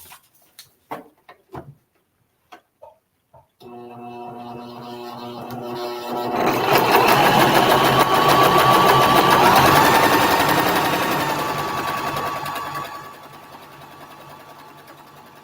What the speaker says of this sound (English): And then we're going to sew right on that line right there.